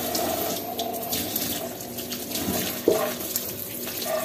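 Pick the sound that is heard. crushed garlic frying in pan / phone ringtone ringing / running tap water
running tap water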